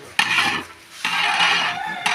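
Chopped big onions are stirred and scraped around a cooking pan in two short, close scuffing strokes.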